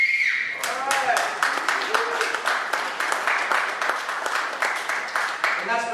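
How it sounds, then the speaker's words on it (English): An audience claps in a hall, a steady rhythmic patter of many hands at moderate volume, with a voice heard briefly at the start and end. "I can hear it in your applause"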